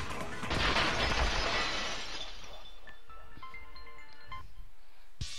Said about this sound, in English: I heard the sound of the window shattering.